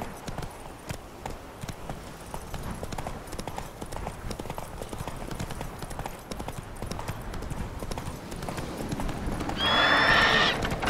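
Steady rhythmic hoofbeats of a horse galloping in the Witcher 3 video game, close and continuous, ending with a loud neigh near the finish.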